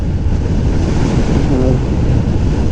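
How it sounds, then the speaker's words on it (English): Wind blast on a Harley-Davidson Fat Boy motorcycle with low beach bars riding smoothly at highway speed, a loud steady rumbling roar of wind over the microphone throughout. "feeling a little bit more wind blast than on the Fat Bob"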